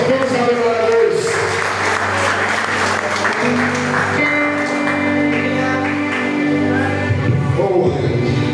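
A church congregation applauds during a worship service; the clapping is a dense, continuous patter blended with sustained musical tones and hum.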